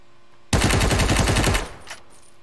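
An automatic weapon fires in the video game Ring of Elysium: a sudden loud burst of rapid shots lasting about a second, then a brief tail and a fainter later report, with no talking.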